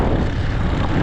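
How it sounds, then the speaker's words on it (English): Motorbike from Tanzania running at a market, a loud, steady engine drone filling the short moment with no voices. "So this is a motorbike from Tanzania."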